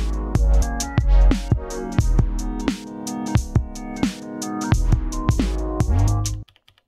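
A resampled electronic music pattern plays loud and dense, with booming kicks, chord tones and snappy percussion driving a steady beat for several seconds before cutting off.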